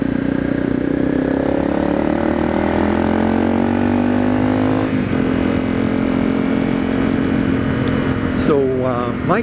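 A Honda CRF250L motorcycle fitted with a Yoshimura RS4 exhaust holds a loud, steady engine note near the listener, with a brief rising rev toward the end.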